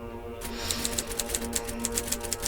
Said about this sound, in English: I got up and went back to the typewriter.